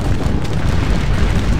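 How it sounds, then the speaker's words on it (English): Massed musket volleys crackle and boom in the Napoleonic battle game Scourge of War: Waterloo, a loud, dense, continuous roar of gunfire with no pauses. "Let's get a nice side view here of the gunfire"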